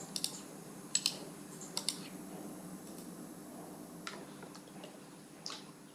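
Sparse, soft key clicks from a computer keyboard while text is typed into a Word document, scattered irregularly with a few sharper taps over a quiet room hush.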